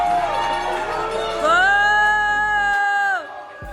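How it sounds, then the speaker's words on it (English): A wedding crowd boos Dominik Mysterio, a loud, sustained swell of many voices with a drawn-out droning tone that holds for about three seconds before abruptly dropping away. "Damian Priest apparently got the crowd to boo Dominic Mysterio at his wedding"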